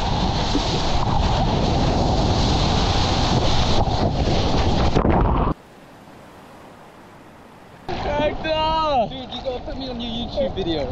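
Strong wind buffets the microphone at Bondi Beach amid ocean surf, loud and continuous for about five seconds, then cuts out to near quiet before louder, voice-like sounds return.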